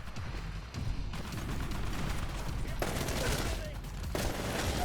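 Dense gunfire and explosive bursts in the Titanfall video game, with rapid overlapping shots forming a continuous loud fusillade and artillery-like booms throughout.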